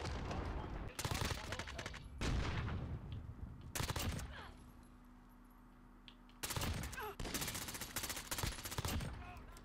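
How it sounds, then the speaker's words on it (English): A shotgun firing in Call of Duty: Modern Warfare, with several loud, booming blasts in clusters separated by short quieter gaps and fading tails, close and dominant, with no talking. "I don't know what they were thinking when they added this shotgun into the game"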